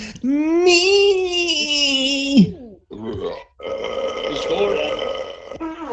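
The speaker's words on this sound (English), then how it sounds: "Yeah, that was my burp." A long, drawn-out loud burp, followed by a short pause and another extended croaking belch.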